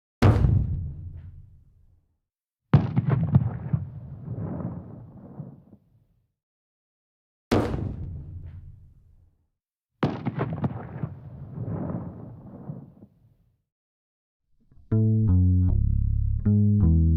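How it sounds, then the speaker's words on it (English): A distant explosion rolls out as a deep boom with a long fading tail, heard four times in separate bursts with silence between, followed by a steady sustained tone at the end. "maybe some kind of explosion in the distance"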